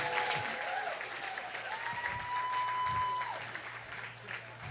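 Sustained applause and cheering from a church congregation fills the room, steady and fairly loud throughout, with a faint tonal whistle drifting above it.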